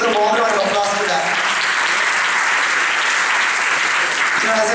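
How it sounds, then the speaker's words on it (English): An audience claps enthusiastically and steadily throughout, a dense burst of applause from a room full of people. "please give a warm round of applause for that"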